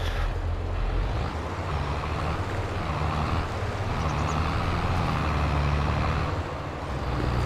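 A heavy tractor engine in Farming Simulator 22 drones steadily at a low idle, a deep continuous rumble with no voices.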